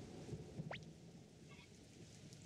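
Rain falls steadily in the video game Suikoden, a faint continuous hiss with a brief rising chirp and a few soft taps over it.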